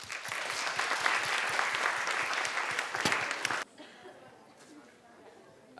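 An audience claps enthusiastically for a few seconds, then the applause cuts off, leaving faint room murmur.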